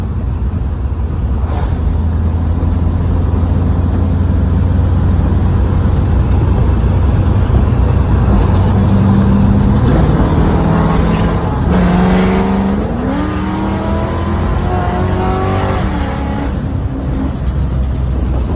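A 1996 Ford Mustang with a swapped engine drives with a steady loud roar, then revs up and down repeatedly in rising and falling sweeps near the end.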